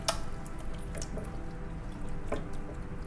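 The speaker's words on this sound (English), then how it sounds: "I use the sake to wash in the outside and the inside." Wet dripping and squishing as a raw chicken is washed with sake inside and out, soft liquid splashes and trickles close by against a steady background hiss.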